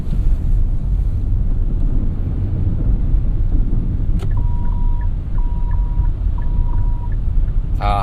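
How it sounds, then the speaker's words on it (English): Repeated beeping chime of the blind spot warning in a 2017 Kia Sportage SX, three short evenly spaced tones heard from inside the cabin over steady road and wind noise during a winter night drive. "their blind spot warning system also gives an audio cue that there's somebody in your blind spot"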